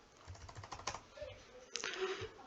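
Fingers typing a search on a computer keyboard, a quick run of light, irregular key clicks at close range, with a slightly heavier pair of strokes near the end and no voices.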